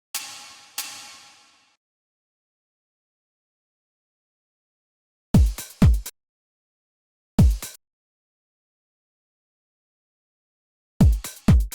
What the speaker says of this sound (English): And at the second half, let's add some more crashes.